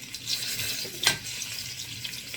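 Garlic frying in a generous amount of olive oil for pancit bihon, a steady close sizzle with one sharp crackling burst as it hits the pan, no talking.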